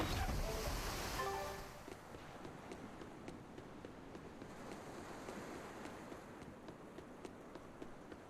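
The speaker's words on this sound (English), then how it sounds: "Scout ship setting sail." In the video game Tales of Berseria, a scout ship sets sail over ocean waves: a soft, steady wash of surf and wind with faint ticking, louder at the start then settling lower.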